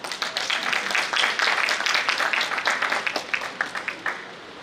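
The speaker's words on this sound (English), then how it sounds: "Please give them a big round of applause." Seminar audience applauding a presenter, a dense patter of many hands clapping that gradually thins into scattered individual claps toward the end.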